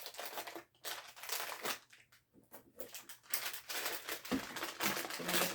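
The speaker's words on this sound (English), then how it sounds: "Let me get the tape off." Tape being peeled and pulled off the packaging of a Cirkul water bottle, close crinkling and tearing bursts with short pauses between pulls, no talking.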